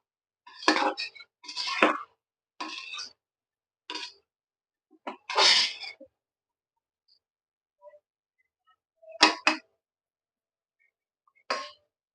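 Spoon scraping and clinking in a pot as lemon leaf bagara rice is stirred, several short bursts of close metallic scraping separated by quiet pauses.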